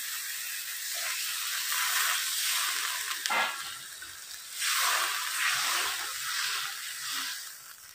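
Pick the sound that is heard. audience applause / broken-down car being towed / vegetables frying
vegetables frying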